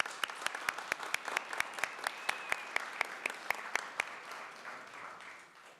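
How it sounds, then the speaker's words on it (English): Steady, evenly spaced hand claps from the audience at a city council meeting, a sparse, regular applause that fades out toward the end. "Let's give them another round of applause."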